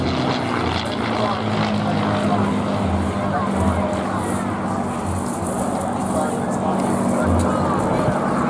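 Propeller aircraft making a topside pass at an airshow, a loud steady engine drone held throughout, with a commentator talking over it.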